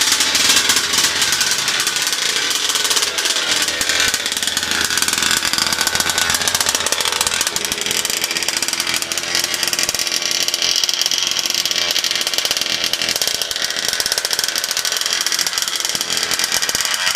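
A fifth-scale RC car's small petrol engine idles steadily during break-in, a loud, continuous buzzing drone with a rapid, even rattle that holds without pause throughout.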